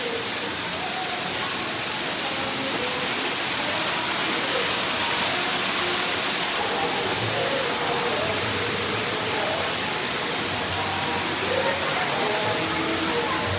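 Water streams over and pours down onto a shivling at the Shri Shrungareshwar Ganpati temple in Harkul, making a dense, even rushing roar that stays constant and close the whole time.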